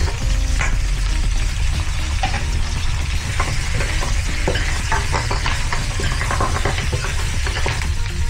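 Camel meat for caldereta sizzles loudly and steadily in a hot pan, a dense continuous frying hiss with occasional scrapes and clatters of stirring throughout.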